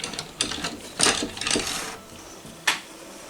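Vintage Dressmaker sewing machine running in short stitching bursts, with mechanical clicks and whirring, a few sharper ticks and a brief loud clack near the end, close and moderately loud with no talk.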